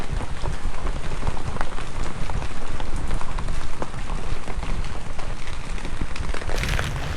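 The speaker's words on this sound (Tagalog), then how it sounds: "pag pala malakas ang ulan, mababasa ka" Heavy rain pours down steadily, a dense, loud hiss of drops pattering on surfaces without any break.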